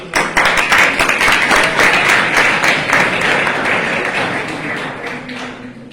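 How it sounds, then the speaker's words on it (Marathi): An audience of school pupils claps, a dense burst of applause that begins loud and holds steady for several seconds before slowly thinning out, with faint voices underneath. "कुणीतरी लिहिल्यावर टाळ्या वाजवले"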